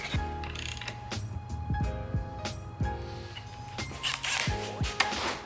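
A ratchet clicks while turning an engine crankshaft bolt during a junkyard LS engine teardown, giving irregular close metallic ticks and clunks at a moderate level.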